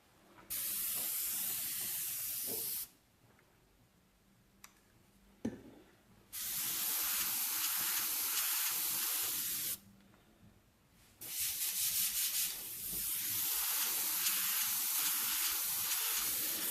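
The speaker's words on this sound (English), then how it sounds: "you've probably just heard me do a quick spray out on the side" An airbrush sprays paint in long bursts of steady close hiss, three sustained sprays of a few seconds each separated by quiet gaps.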